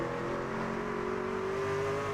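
A race truck engine in an online racing simulator truck series holds a steady, loud, smooth drone on light throttle, its pitch creeping up slightly over two seconds with no voices.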